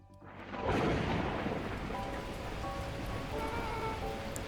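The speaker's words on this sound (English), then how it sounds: "At that moment, the heavens opened up, unleashing torrential rain." Thunder and torrential rain in the video game Beacon Pines: a deep rumbling swell rises out of near-silence, then heavy rain hisses steadily and loudly while faint musical tones drift beneath it.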